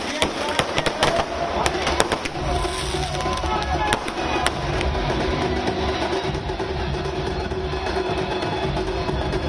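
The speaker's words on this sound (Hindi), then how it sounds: "आतिशबाजी हुई है।" Dense crackling bursts and sharp pops of fireworks going off continuously at a political celebration in Gujarat, with a steady roaring backdrop and a crowd murmuring underneath.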